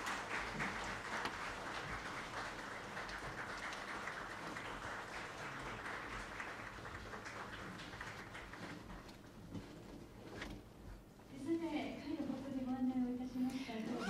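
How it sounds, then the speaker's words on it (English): Applause from an audience at a Sharp technology forum event, sustained and fairly faint clapping for about ten seconds, followed by a speaking voice over the tail end. "Please once again give them a round of applause."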